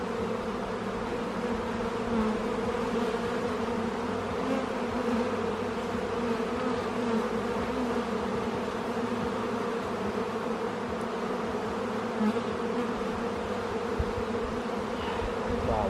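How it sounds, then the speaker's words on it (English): A dense, steady buzz rises from many honeybees swarming around an open beehive during a frame inspection, a close, continuous hum with no breaks and no talking. "Wow, lots of bees in these, man."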